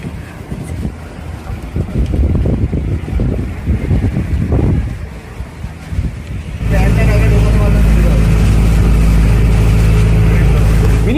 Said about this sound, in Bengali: আমাদের বোট আবারও চলতে শুরু করলো পরবর্তী আইল্যান্ডের দিকে